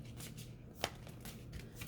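Oracle cards are shuffled in soft, quiet riffling bursts with a faint papery flutter and one sharper snap of card edges, heard alone without speech.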